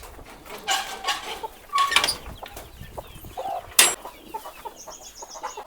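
Chickens in a farm shed below a sheep pen, with scattered close clucks and short squawks and a sharp call near the end, amid light background rustle and no talk.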